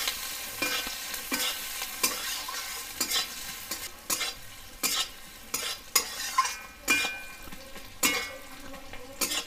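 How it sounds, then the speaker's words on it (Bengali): Chopped onions frying in a pan while a spatula stirs them, giving a steady sizzle broken by repeated scraping strokes at a regular rhythm, close and moderately loud, with no voices. "পেঁয়াজটা ভালো করে ভেজে নেব।"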